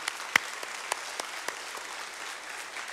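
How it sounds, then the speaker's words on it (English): A church congregation gives a round of applause to welcome new members. The clapping is soft and somewhat distant, a steady patter with a few sharper individual claps standing out. "let's just give them a round of applause"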